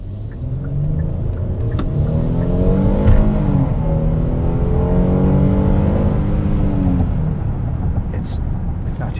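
A 2024 Hyundai Palisade Calligraphy AWD's V6 engine accelerating hard from inside the cabin, rising harmonics climbing steadily then easing, a continuous loud drone with people talking over it.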